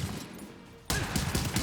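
Gunfire erupts in a video game after a quieter ambient moment, a sudden loud burst of rapid repeated shots that continues to the end.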